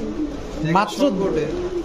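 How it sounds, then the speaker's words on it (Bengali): Big red pigeons at a market give a couple of close, loud rolling coos mixed with a voice talking over them. "একদম বিগ সাইজের কবুতর ভাই"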